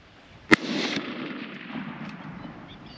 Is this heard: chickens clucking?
no